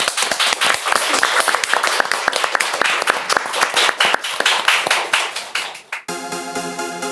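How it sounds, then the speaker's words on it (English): An audience gives loud, dense applause with sharp individual claps standing out, lasting about six seconds before being cut off abruptly and replaced by a different tonal sound. "So please give a massive round of applause to Genki."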